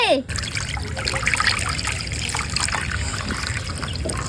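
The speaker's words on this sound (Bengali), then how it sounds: "আলু সিদ্ধ করার জন্য পানি দিয়ে দিচ্ছি।" Water pours steadily into a frying pan holding cut potatoes, a continuous trickling splash that runs for several seconds, close and fairly loud.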